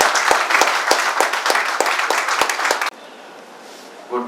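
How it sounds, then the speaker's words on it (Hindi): An audience in a hotel hall applauds to welcome a speaker, dense clapping for about three seconds before it cuts off abruptly to quiet room noise. "जोरदार तालियों से इनका स्वागत हो जाए"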